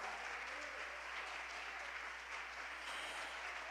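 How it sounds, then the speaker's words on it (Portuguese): An audience applauds at a church gathering, a dense, even wash of clapping that stays steady and fairly loud for the whole stretch. "Aplauda mais forte, gente."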